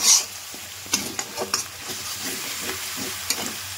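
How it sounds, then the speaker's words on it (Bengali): Spice masala with sour yogurt is stirred and fried in a pan, a soft hiss of sizzling under a few sharp scraping and tapping strokes of the spoon, near and quiet, without talk. "এবার একসঙ্গে ভালো করে কষাতে হবে, ভালো করে আমি কষিয়ে নেব মশলার সঙ্গে"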